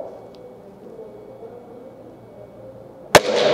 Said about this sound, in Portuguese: Vou tentar parar de falar no próximo disparo